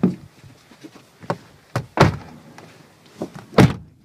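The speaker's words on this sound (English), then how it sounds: "And shut the door." Several short thuds of car doors shutting spread across a few seconds, the loudest a solid slam near the middle and another toward the end, with quiet gaps between.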